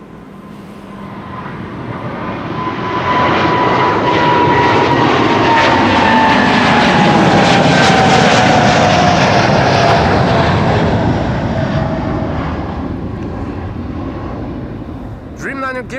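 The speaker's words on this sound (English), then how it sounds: "KLM flight 749 to Bogota, Colombia, 78710 Dreamliner" A KLM Boeing 787-10 Dreamliner jet takes off, its engine roar swelling to a loud, sustained peak with a sliding whine, then slowly fading into the distance.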